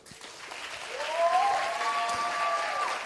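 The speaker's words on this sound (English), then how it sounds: "Another round of applause for all of our presenters." An audience gives a round of applause after presentations at a finale event. Dense clapping swells within the first second and stays steady and full to the end, with a faint tone and light crowd noise underneath.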